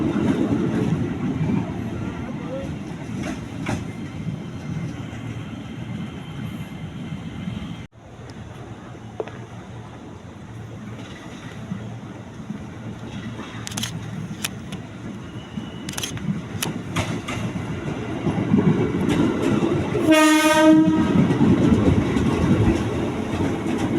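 A 12-car KRL Commuterline train bound for Jakarta Kota rumbles and clatters into Bogor station, with a steady mechanical roar building up and a loud horn-like tone sounding briefly toward the end.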